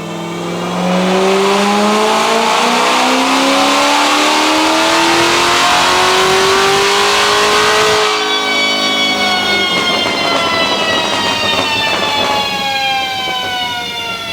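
A Chevrolet Silverado with a burble tune revs hard on a dyno, its engine pitch climbing loud and steady for several seconds, then dropping briefly and climbing again at full throttle.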